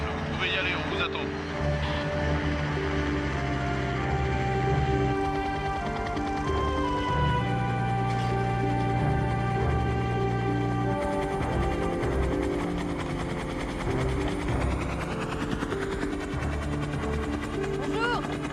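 A helicopter approaching to land in an action film, its steady rotor and engine drone holding throughout with tonal whine, while voices speak over it.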